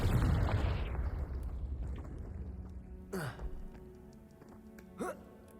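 In Hogwarts Legacy, a Confringo fire spell erupts in a loud explosive burst at the start, its rumble fading over a couple of seconds, followed by softer effects and short vocal sounds.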